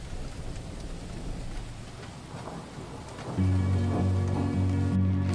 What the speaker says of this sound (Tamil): லைட்டாக மழை தூருது, பரவாயில்ல, நல்லா இருக்கு